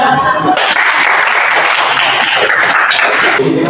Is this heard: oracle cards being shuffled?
no